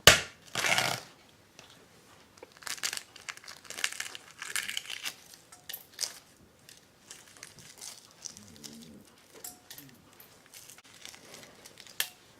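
Crinkly, crackling bursts of a shell being peeled off a stubborn hard-boiled egg, one loud crunch near the start, then scattered small cracks and rustles spread through the rest, close and fairly quiet.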